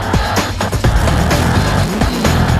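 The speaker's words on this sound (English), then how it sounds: "Greg starts the engine." A Chevrolet Camaro drag race car's engine fires up and keeps running, a loud, rough, steady roar with a few brief revs rising and falling over it, and no talking.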